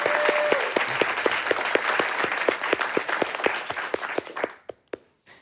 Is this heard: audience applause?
yes